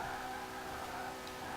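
A 2019 Porsche 911 Carrera S engine in Forza Horizon 4 holds a steady high-speed drone, loud and close, with a faint tire or wind hiss layered over it and no voice.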